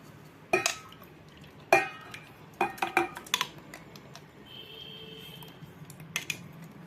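Tomatoes being mixed into tamarind water in a pot for pepper rasam, heard as sharp metallic spoon knocks and clinks against the vessel in irregular bursts, with soft sloshing between them.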